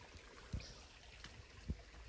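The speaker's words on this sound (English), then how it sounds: "Here's the little stream that goes through our property from the waterfall." Faint, steady trickle of a small stream with soft gurgles and a couple of brief splashes, distant and alone.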